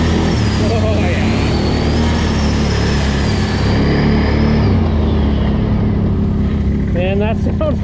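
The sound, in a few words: Can-Am Renegade 1000 X MR ATV engine revving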